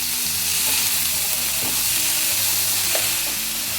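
Spinach frying in a pan with garlic, cumin, chili and turmeric gives a loud, steady sizzle throughout, with occasional scrapes as it is stirred and no talking.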